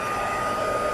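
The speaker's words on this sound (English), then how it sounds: "a heat gun" Heat gun blowing hot air, a loud steady whooshing hiss close up, used on a large stamped paper gift bag.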